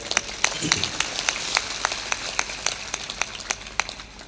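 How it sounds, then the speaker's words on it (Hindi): An audience clapping along in a steady rhythmic beat during a devotional bhajan gathering, crisp claps repeating about every third of a second over a noisy background. "ताली थोड़ा जोर से बजाया करो।"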